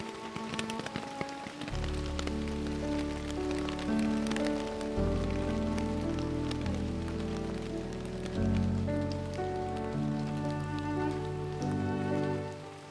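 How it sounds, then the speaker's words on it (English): Rain patters and taps in scattered drops on a tent's taut fabric during winter camping on Loch Lomond, a soft continuous drumming heard over sustained, layered tones. "the rain drums gently on my tent"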